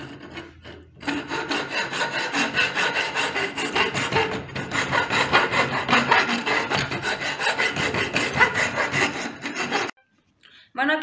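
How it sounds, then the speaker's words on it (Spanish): A small wooden board is sanded by hand, giving a steady rasping scrub in quick back-and-forth strokes, close and loud, that runs for about ten seconds before stopping, with no talk over it. "Entonces vamos a lijar pues la otra tablita que es del mismo tamaño."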